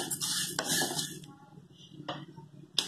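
Moong dal is dry roasted in a pan without oil, the lentils stirred with a utensil that scrapes and clatters against the metal in quick bursts, with a few sharp clinks and no talking.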